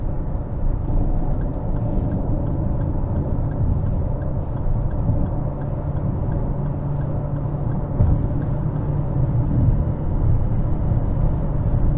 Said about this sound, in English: getting up to the freeway here, no problem, and I probably only use half the pedal to get up to 75